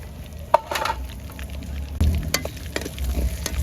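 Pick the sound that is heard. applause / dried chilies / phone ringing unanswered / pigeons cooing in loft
dried chilies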